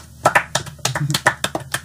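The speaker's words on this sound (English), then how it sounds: "Claps." Hands clap in quick, uneven bursts, several sharp claps close by filling under two seconds at a lively pace.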